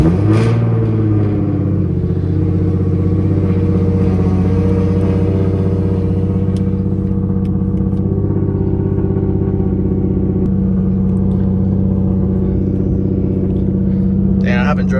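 A modified Nissan 350Z HR engine idles and revs loudly up close, with a deep steady rumble that holds and shifts pitch partway through, a heavy and continuous drone.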